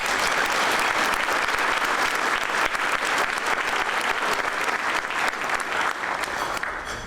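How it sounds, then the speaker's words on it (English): Audience at a town business appreciation breakfast applauding first responders, a sustained, even round of clapping from a sizable room that tapers slightly at the end, with no one talking over it. "Please give them a round of applause."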